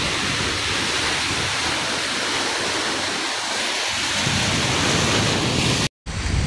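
Steady, loud roar of sea waves surging and crashing against roadside rocks on the Kollam coast where fishermen sit, a continuous wash of surf with no break, swelling slightly toward the end.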